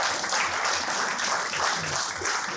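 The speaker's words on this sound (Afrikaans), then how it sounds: "Kan ons vir al die sportman wat getuig net hande klap asseblief?" Audience at an event in a hall applauding sportsmen, a dense, steady wash of clapping from many hands that holds at even loudness throughout, with no voices standing out.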